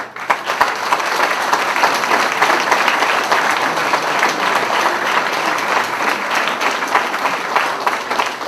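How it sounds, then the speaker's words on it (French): Sustained, steady applause from an audience at a municipal New Year's address fills the whole stretch, dense and even, with no voice standing out above it. "mérite que nous l'applaudissions et que donc vous l'applaudissiez pour cela"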